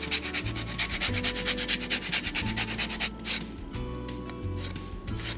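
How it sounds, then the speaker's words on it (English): Orange zest grated by hand over the top of a cake, a rhythmic rasping scrape with quick regular strokes for about three seconds, close and fairly loud, then softer intermittent rubbing. "We're just gonna put some orange zest all over the top."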